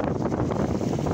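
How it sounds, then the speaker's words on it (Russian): Strong wind roars and buffets the microphone in a dense, gusty squall blowing onshore at a shoreline, close and continuous. "Застал вот такой шквал сильненький, и от берега мы отойти не можем"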